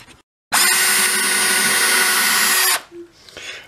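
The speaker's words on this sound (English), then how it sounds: "we've drilled the pilot holes for the four tuners, and they go all the way through the back" A power drill whines loudly for about two seconds, boring pilot holes for the four tuners through the back of a mail-order guitar neck, then spins down into faint handling noise.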